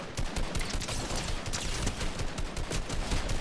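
Rapid, dense gunfire in a Fortnite match crackles nonstop, a steady barrage of overlapping shots at close to mid range with no talk.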